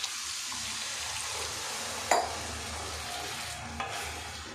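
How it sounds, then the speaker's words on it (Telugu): Water poured into a pan of hot, sizzling curry made with peanut powder and chilli powder; a steady loud hiss with a sharp splash-like burst midway and a smaller one near the end. "వాటర్ పోసేస్తున్నా చూడండి."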